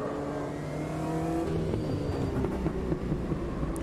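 A race car engine in the sim Automobilista 2 at Silverstone drones steadily and loud, then clicks up into fourth gear and pulls on, with a brief rise and dip in pitch and no talk over it.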